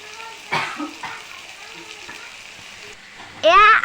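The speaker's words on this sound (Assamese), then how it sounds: "এয়া মছলা আৰু বিলাহী ভাজি আছে।" Spices and tomato fry in a pan for a fish curry, giving a steady low sizzle with a few louder bursts and stirring scrapes, then a sharp loud hiss near the end.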